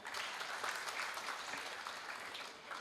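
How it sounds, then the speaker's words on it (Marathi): Audience applause at a community welfare event, a steady, even wash of clapping from a crowd that carries through without pause, moderately distant and fairly quiet. "त्यांच्यासाठी एकदा जोरदार टाळ्या"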